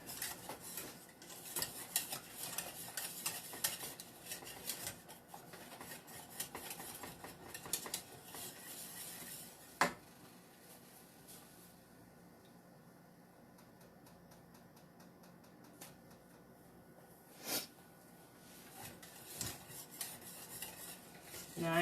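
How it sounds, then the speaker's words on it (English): A spoon scrapes and clinks steadily against a pot as lemon meringue pie filling is stirred over medium-high heat, with continuous rhythmic scraping that eases off midway before a few sharper knocks return. "stir and over medium heat, medium-high heat till it's bubbly, reduce and stir 2 minutes"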